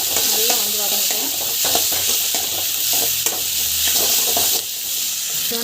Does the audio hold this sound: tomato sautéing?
yes